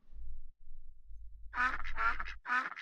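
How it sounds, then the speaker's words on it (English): Cartoonish duck quacks from Rollercoaster Tycoon 3, three loud, distinct quacks in quick succession after a low background hum, with no talking. "If you clicked them in the original Rollercoaster Tycoon, they just went quack."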